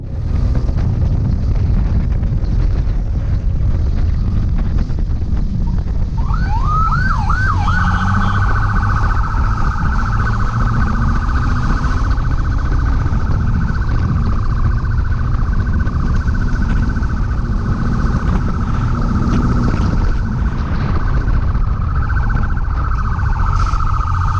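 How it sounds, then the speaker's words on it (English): A loud, close police motorcycle siren, briefly malfunctioning, wails and yelps in rising sweeps over steady engine and road noise during a chase, continuing throughout without talk. "Despite a temporary siren malfunction on the police bike"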